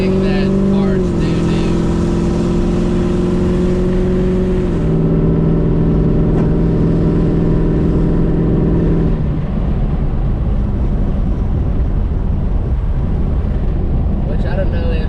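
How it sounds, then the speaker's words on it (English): A boosted LSA-powered Pontiac G8 GT drones loudly at steady speed, its engine tone stepping in pitch and holding as throttle is applied, then giving way to broadband road and wind roar while someone talks over it. "The car is really quiet until like you give it gas, and then it gets a lot louder"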